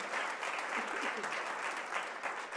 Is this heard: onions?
no